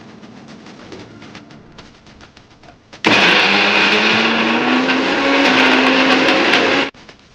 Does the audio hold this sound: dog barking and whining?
no